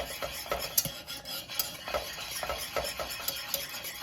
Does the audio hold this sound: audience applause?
no